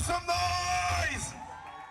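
Concert crowd at a live show cheering and whooping after singer Ali Marshall is introduced, a burst of shouts and yells that peaks early then tapers off within two seconds, heard at moderate distance over lingering stage sound.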